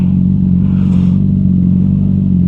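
QJMotor SRK450RR motorcycle cruising on a highway, its engine and exhaust giving a steady, loud, deep drone heard up close without any talk.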